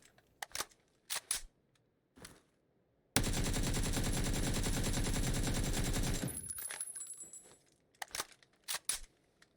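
In the PUBG video game, scattered single clicks and shots lead into a loud, continuous burst of automatic gunfire lasting about three seconds during recoil testing. The burst tails off into a few sparse shots and clicks.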